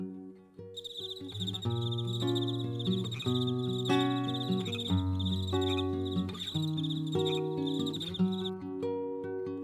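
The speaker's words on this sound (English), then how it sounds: "Like birds, frog species can be identified by their unique sounds." Poison dart frogs give rapid, buzzy trilled calls in repeated bursts throughout, layered over steady sustained musical tones.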